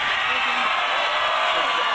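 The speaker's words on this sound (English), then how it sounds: "That cheer you hear is the Mason sideline." A distant crowd roar and cheering from a high school football sideline at an overtime coin toss, a steady broad wash of cheering under a commentator's talk throughout.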